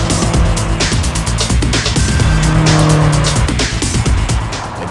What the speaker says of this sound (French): le V8 Twin Power s'emballe au rythme de la boîte DKG double embrayage et de ses 7 rapports passés en cascade